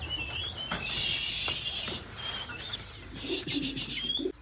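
Birds chirp and call around an open farm housing about 400 chickens, with short bright peeps and tweets scattered across the clip, some clustered in bursts, moderately close over a quiet outdoor background.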